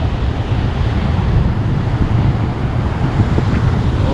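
Strong wind and storm surf on the Black Sea shore at Anapa, a dense, continuous low roar of gusting wind buffeting the microphone over breaking waves, steady and loud with no voices.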